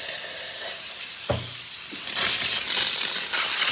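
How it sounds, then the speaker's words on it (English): Steady, loud hissing of steam rushing from a Rancilio Sylvia espresso machine's steam wand as it purges water, with a brief clunk partway through and the hiss swelling slightly toward the end. "Now we're gonna purge the steamer because it has a bit of water in there."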